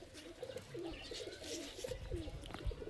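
Giribaz high-flying pigeons coo in a few soft, repeated phrases, fairly close and faint against a quiet background with occasional low thumps.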